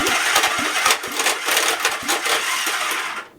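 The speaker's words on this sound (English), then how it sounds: "I was able to short out the solenoid and turn over the motor and check for spark" A Honda CB360 motorcycle engine cranking over through a shorted starter solenoid, with a failing starter clutch, a harsh grinding, clattering churn up close for about three seconds before it cuts off abruptly.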